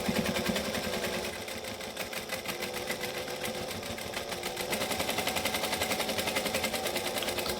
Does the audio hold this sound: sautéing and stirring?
no